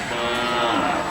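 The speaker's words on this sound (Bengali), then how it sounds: "একটা গরু" A Sulihan-breed cow moos loudly and steadily at a busy Tuesday cattle market in Narayan Hat, Bhujpur, Fatikchhari, one drawn-out call with no talk over it.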